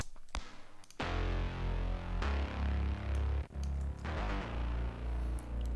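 Electronic music bass group with sub and bass glued together by compression for a remix: heavy, pulsing low-end notes in sustained blocks with gritty upper harmonics, loud and dense, changing pitch every second or so.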